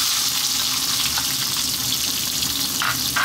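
Chopped onion hits hot oil infused with cumin, fennel and chilli for a zucchini curry, setting off a loud, continuous close sizzle and crackle that holds steady throughout, with no talking.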